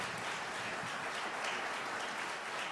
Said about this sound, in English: I got to give y'all a big round of applause